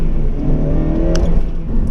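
A Honda Civic Type R engine coming onto VTEC drones steadily with a low, layered hum, holding a constant pitch rather than climbing, heard from inside the cabin.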